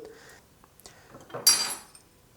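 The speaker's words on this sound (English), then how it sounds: "stir it, just stir until you don't see the free liquid" A utensil stirs yarrow paste mixed with alcohol in a container, making soft, quiet scraping and clinking, with one brief, louder scrape near the end.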